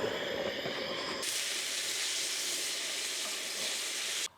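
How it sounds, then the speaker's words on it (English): A Jetboil Genesis camp stove burning with a steady, close rushing hiss that grows stronger after a second and holds evenly before cutting off abruptly. "Jetboil Genesis. Fantastic stove."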